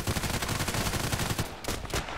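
Rapid gunfire rattles through a Contract Wars video game match, a dense, loud burst of fast repeated shots that briefly stutters and resumes near the end.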